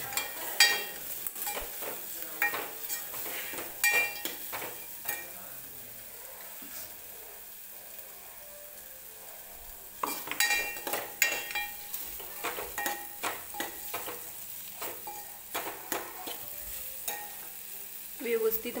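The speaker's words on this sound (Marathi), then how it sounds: "व्यवस्थित मसाला भाजून घ्यायचा" Spiced masala roasting in a pan for chakolya, soft steady sizzle under repeated stirring scrapes and utensil clinks, busy in bursts with a quieter lull midway, close and moderately quiet.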